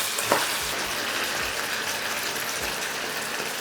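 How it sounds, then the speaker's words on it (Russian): Meat frying over maximum heat in rendered sheep tail fat for plov, a steady close sizzle running throughout with a few soft stirring bumps. "И отправляем обжариваться мясо."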